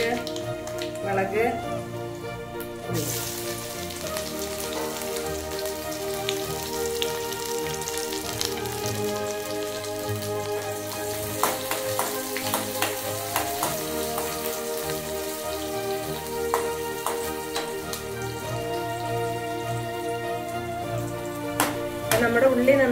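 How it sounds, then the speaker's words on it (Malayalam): Sliced onions sizzle in hot oil with mustard seeds popping while being browned for a tempering to pour over a Kerala-style iron tamarind and fish curry. The sizzle is fairly quiet and continuous, broken by sharp crackles and clinks, with musical tones running underneath. "ഉള്ളി മൂപ്പിച്ച് ഒഴിക്കുകയാണ്"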